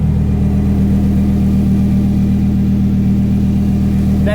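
A 2020 Lamborghini Huracan Evo, its engine shared with the Huracan Performante, runs with a steady, loud low rumble and a deep even drone that barely changes, with no talk.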